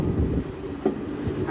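Tirupati Express rolling into Arakkonam junction station, a steady low rumble of the moving train with a few soft knocks of the wheels, heard from on board at moderate level.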